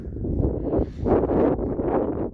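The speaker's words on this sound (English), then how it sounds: "it's windy, and I apparently thought it was a great idea to record today" Wind buffets the microphone in heavy low rumbling gusts, swelling and dropping over a couple of seconds.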